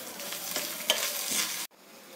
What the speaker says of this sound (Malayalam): ഇനി നമുക്ക് വറവൊന്ന് ഇളക്കി